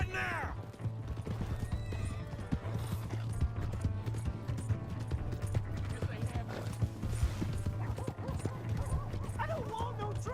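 Horse hooves clip-clopping in a steady rhythm in the video game Red Dead Redemption 2, with neighing and barking nearby and people talking over the clatter.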